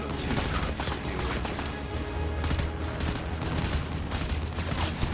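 Rapid turret gunfire in the Death Stranding video game, a dense continuous volley of shots with booming impacts, loud and sustained.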